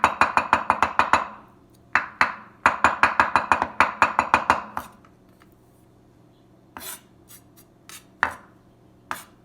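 A knife mincing sticky, sugary food on a cutting board makes rapid, crisp bursts of close chopping taps, two long volleys, then slower scattered knocks and scrapes.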